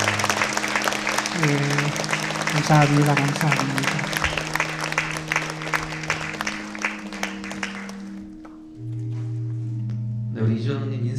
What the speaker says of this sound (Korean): 우리 다시 한번 크게 박수하겠습니다